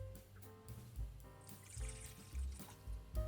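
Water poured over sugar in a bowl while making pizza dough, an uneven trickling and splashing with several soft gurgling pulses, close and fairly quiet.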